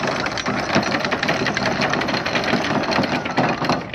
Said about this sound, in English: we're just starting the engines just to lift up our chain and anchor.